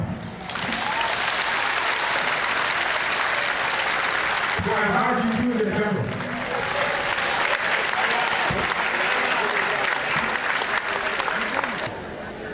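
A crowd at a gathering breaks into loud, sustained applause that fills the room for over ten seconds with little variation, with a voice briefly speaking over it partway through.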